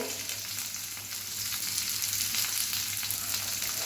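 Chopped onion frying in hot oil in a pan for a fenugreek-leaf stir-fry, a steady close sizzle and hiss that swells slightly partway through, with no talking.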